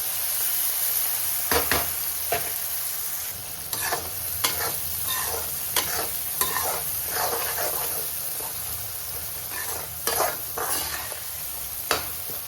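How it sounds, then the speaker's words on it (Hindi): Tomatoes fry in oil with chili and salt in a pan, a steady close sizzle broken by repeated scraping stirs of a spoon. "तो ये भुन गए टमाटर"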